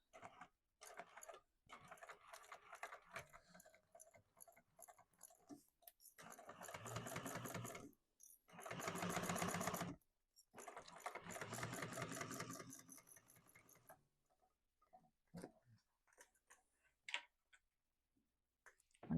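A sewing machine bastes fabric close to the ends of a zipper, running in several bursts of fast rhythmic stitching separated by pauses, with light ticks and handling noises between runs.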